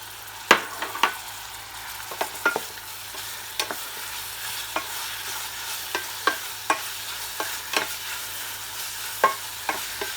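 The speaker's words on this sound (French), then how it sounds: "On va ajouter les morilles." Morel mushrooms go into a pan of softened shallots for a morel sauce and are stirred, giving a steady sizzle broken by repeated sharp scrapes and clicks of the spoon against the pan.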